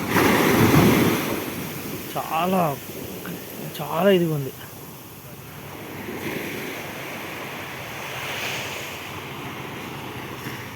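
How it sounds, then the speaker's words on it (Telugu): Sea waves wash steadily at the shore in a continuous broad roar with wind buffeting the microphone, while a voice talks briefly over the surf. "సముద్రం వ్యూ బాగుంది,"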